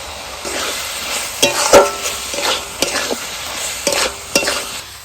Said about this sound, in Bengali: মশলার সাথে ভাজা আলুটাও আমি মিনিট দিয়ে কষিয়ে নেব